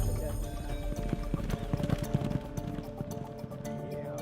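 Horses in jockey training clip-clop at a trot in a steady, close rhythm, with talk over the hoofbeats throughout.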